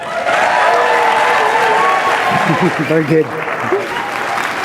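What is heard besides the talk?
audience applause at Ignite Fort Collins event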